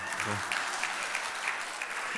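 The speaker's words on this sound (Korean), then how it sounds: "박수 한번 쳐야죠" Applause from a church congregation during a sermon, a steady wash of clapping across the whole stretch, with a brief voice near the start.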